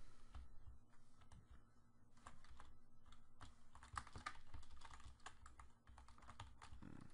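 Rapid computer keyboard typing clicks in the background of a Fortnite gaming session, steady and fairly quiet throughout with a low hum underneath and no talking.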